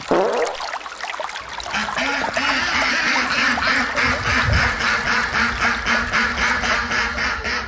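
A duck quacks over and over in a quick, steady rhythm, loud and close, with faint trickling water beneath.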